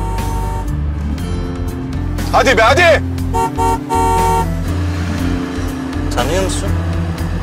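A car drives close behind on the road, its engine droning steadily with a brief horn-like toot partway through, while people talk loudly and excitedly over it.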